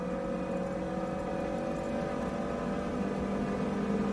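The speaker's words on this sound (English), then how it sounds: "that 3-litre V8 engine powering him up the hill" A Ferrari 308 GTB with a 3-litre V8 drones steadily as it powers up a hill, a sustained, fairly even engine tone with no voices.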